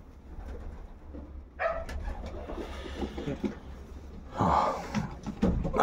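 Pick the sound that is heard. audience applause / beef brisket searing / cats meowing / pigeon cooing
pigeon cooing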